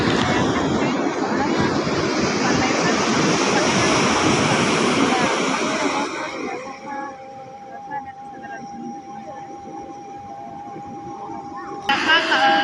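Surf washes steadily onto a littered beach shore with strong wind buffeting the microphone, loud and close for several seconds before easing to a faint background wash, with a brief talking voice near the end.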